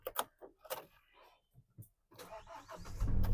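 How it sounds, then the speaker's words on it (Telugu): A 2024 Mahindra Thar RWD diesel turns over and fires on the first try after a few clicks and clunks, then settles into a loud, close, rumbling idle. "ఒకటే సెల్ఫ్ లా స్టార్ట్ అయిపోయింది, ఎలాంటి స్టార్టింగ్ ట్రబుల్ అయితే లేదు."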